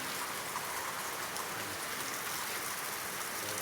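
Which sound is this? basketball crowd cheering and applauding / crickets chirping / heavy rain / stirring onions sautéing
heavy rain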